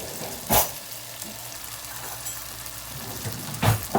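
Ginger garlic paste sizzling in a hot curry pot over high heat while making an Indian chicken and vegetable curry, a steady close frying crackle with two louder spatter bursts near the start and end.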